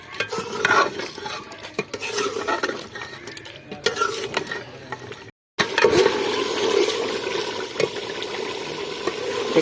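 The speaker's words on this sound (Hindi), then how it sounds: "तकरीबन 20 से 25 मिनट गोश्त को अच्छे तरीके से भूनते हुए पकाएंगे।" Chicken meat, already tender and dried of its water, being stirred and fried in a few spoonfuls of oil for a desi chicken curry, giving a steady sizzling hiss with scraping stir strokes, briefly cut off before resuming.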